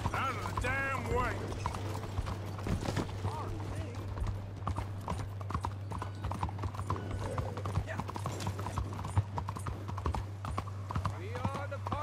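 Horse hooves clip-clop at a steady gait in the video game Red Dead Redemption 2, under game dialogue, a low constant hum and a brief whinny.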